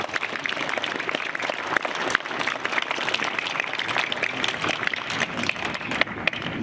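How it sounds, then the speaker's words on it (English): Steady crowd applause fills the stands after a wheelchair tennis match at the NEC Wheelchair Tennis Masters, a dense even patter of many hands throughout with no break. "A round of applause for Niels Vink."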